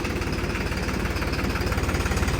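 A tractor engine runs with a steady low throbbing, rough and continuous at close range, during a friendly tractor tug-of-war.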